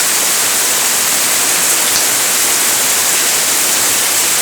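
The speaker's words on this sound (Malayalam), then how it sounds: "താഴേക്ക് നോക്കി നോക്കൂ നല്ല ഇടുക്കാച്ചി മഴ" Dense, unbroken hiss of heavy rain pouring down, loud and even throughout with no pauses.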